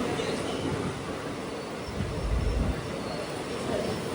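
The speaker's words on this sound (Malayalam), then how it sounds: "ട്രെയിൻ ഇപ്പോൾ ഇതാ പൊള്ളാച്ചി ജംഗ്ഷനിലേക്ക് എത്തുകയാണ്" The 4:55 train from Podanur pulling into Pollachi Junction, a low steady rumble with a swell of heavier rolling noise midway, heard from the platform amid faint background murmur.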